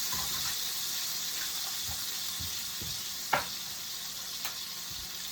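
Garlic from a jar added to a hot pan while sautéing mixed vegetables with bacon gives a steady, moderate sizzle with a few soft clinks of a utensil, no voices.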